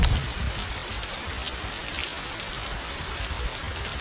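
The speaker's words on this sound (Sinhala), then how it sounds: "ඊට පස්සේ යන්න ටික වෙලාවකින් හොඳටම වහින්න ගත්තා." Heavy rain pours over a village in a steady, dense hiss that fills the whole stretch with no pauses and no voices.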